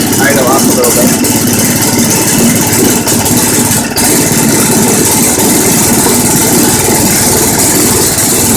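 A small engine on a 12-volt generator idles with its idle raised, a steady loud mechanical drone running without a break, with only brief faint clicks.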